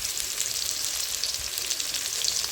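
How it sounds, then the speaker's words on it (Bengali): Cut, washed potatoes fry in a pan with cumin seeds, salt and turmeric, a steady soft hiss and sizzle with no one talking. "কেটে ধুয়ে রাখা আলু, নুন হলুদ দিয়ে ভেজে নেব।"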